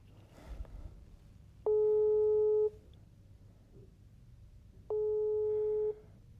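An unanswered phone call gives a busy tone: two long, steady electronic beeps about a second each, separated by a pause, over a faint background hum.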